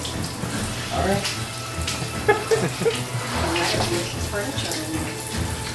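Water runs from a hose to flood a house, a continuous splashing gush with some uneven bursts, while people talk faintly in the background.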